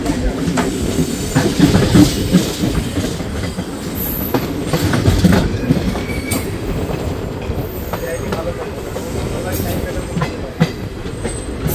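A loud, steady rumble comes from inside a moving Kolkata-to-Digha special passenger train, in a general class coach. Wheels clatter rhythmically on the rails with occasional squeals, and voices murmur faintly under the noise.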